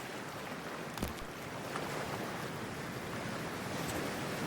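Broad, steady rush of sea water and surf as a wetsuit-clad character wades into cold ocean in Cyberpunk 2077, a continuous close wash with a couple of small splashy bumps and no talking.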